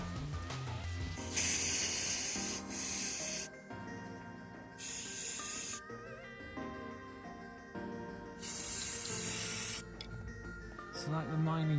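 Several loud bursts of spray from an aerosol can painting a scratch-built model submarine, each a steady hiss lasting a second or two, separated by pauses with quiet background music.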